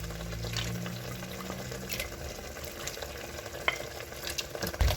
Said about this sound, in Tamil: இந்த டைமில் நாங்கள் ரெடி பண்ணி வச்ச கோழியை சேர்த்துக்கொள்வோம்